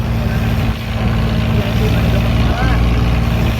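An outboard boat motor with its exhaust pipe hanging straight out from the engine drones loud and close with a steady low-pitched hum, and a voice speaks briefly over it.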